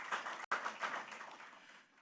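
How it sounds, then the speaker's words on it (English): A faint, distant audience applauds at the Enterprise Life Nigeria Advantage Connect app launch in 2023, with a brief break in the clapping before it slowly dies away. "please give yourselves a round of applause for being here as well"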